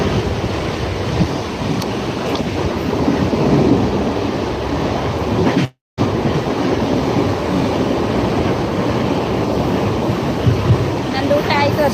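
Steady loud rumble and rush inside a moving train, continuous throughout with one brief dropout midway and no voices.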